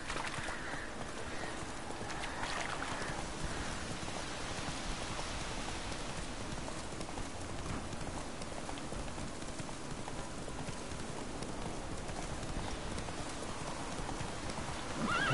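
Horse galloping in The Witcher 3, the hoofbeats blending into a steady, dense clatter beneath rain-like outdoor game ambience throughout.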